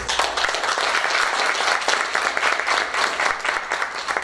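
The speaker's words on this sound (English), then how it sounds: "we're going to give you a round of applause" Steady, dense applause from an audience at a school district board meeting, filling the room at an even level for several seconds with no talk over it.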